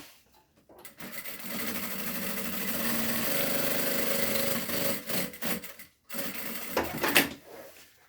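A sewing machine stitches a strap in a continuous mechanical whir that runs for several seconds, stops, then resumes in shorter bursts with handling noises between.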